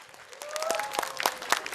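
Audience applause at an Indonesian youth talent competition, clapping swelling from quiet to a fuller round, with brief whoops and a rising cheer cutting through.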